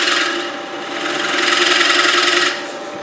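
A steady, raspy scraping hiss as a shear scraper rides a turning wooden bowl's button at 45 degrees on a lathe, swelling louder midway and easing off near the end, close and unaccompanied.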